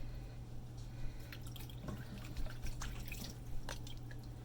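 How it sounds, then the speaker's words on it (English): A bar of handmade soap wetted under a running tap over a sink, with a steady low stream of water, light drips and splashes, and small handling taps through the flow. "I'm going to go ahead and get this wet, lather it up"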